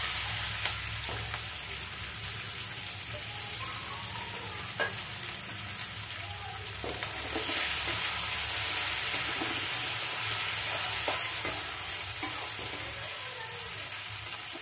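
Onion and garlic, with ginger pieces, cumin, asafoetida and dry spices, fry and get stirred in a pan for a dum aloo curry, giving a steady sizzle with scraping stirs and faint water sounds.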